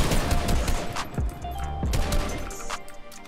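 Fortnite gunfire rattles out in quick bursts of shots at an enemy, loud and close, with rapid cracks trailing into a few scattered single shots.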